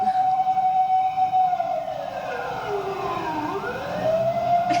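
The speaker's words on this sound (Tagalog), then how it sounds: "Maya-maya pa, naulinigan na ang sirena." A fire truck's wailing siren near a fire scene holds a high tone, sweeps down and back up, and rises again, loud and fairly close, with road rumble beneath.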